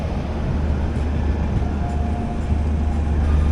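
The 22616 Intercity Express, an LHB-coach train, rolling out of Coimbatore Junction with a steady low rumble and continuous wheel noise, heard from aboard and close by, with no voices.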